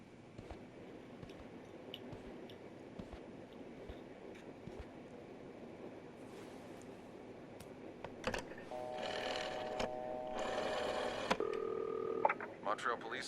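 Telephone dialing in a video game: a run of keypad tones near the end, several short beeps in sequence over a quiet ambient background.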